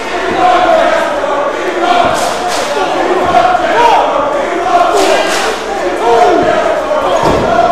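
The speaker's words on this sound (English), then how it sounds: "The crowd fully behind Gaspar Hernandez" A large, loud crowd roars and chants without pause, voices blending into a dense wall of cheering as in a packed arena.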